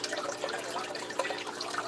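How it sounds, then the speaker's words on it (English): Water pours into a container of old aquarium water, a faint, steady splashing trickle close by and alone. "I had that much water in there. I added water."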